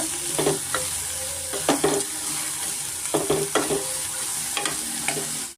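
A pan on a medium flame sizzles steadily while a spoon stirs and scrapes through turmeric, the scraping coming in short irregular strokes over the constant hiss.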